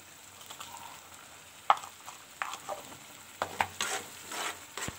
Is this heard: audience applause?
no